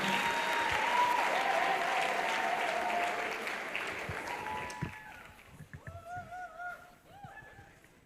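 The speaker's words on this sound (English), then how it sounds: "Can we give him a round of applause?" An audience claps in sustained applause at a youth event, loud and dense at first, then thinning out and fading after about five seconds as a voice speaks over the scattered last claps.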